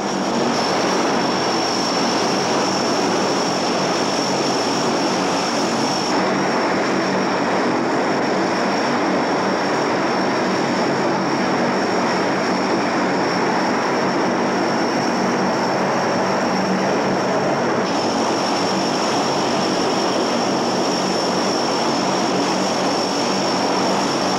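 Engines of military transport aircraft carrying paratroopers of the 82nd Airborne with supplies and equipment drone in a steady, loud propeller roar that holds unbroken throughout, with no voices.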